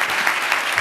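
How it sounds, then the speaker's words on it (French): A crowd claps for Nora, a movement organiser, in a brief, dense burst of applause at moderate distance, continuous and without speech. "Il faut applaudir Nora parce qu'elle se bat."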